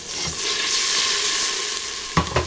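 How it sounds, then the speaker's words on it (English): Salchichon soup base with sazon sizzling in a pot, a constant close hiss of frying, with a few clunks of a spoon stirring at the start and end. "Give it a quick stir."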